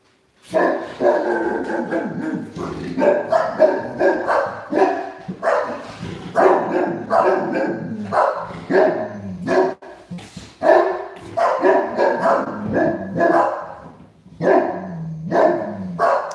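A big dog of about 165 pounds barks repeatedly and loudly nearby, deep woofs coming in irregular runs with brief pauses, continuing almost without stop.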